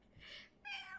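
A woman imitates a cat meow with her voice, two short nasal mewing calls in quick succession, close and fairly quiet, with no other talk.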